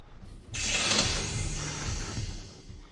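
A valve wheel being turned in the video game Outlast, a mechanical ratcheting creak that starts abruptly and grinds on steadily for a couple of seconds before easing off.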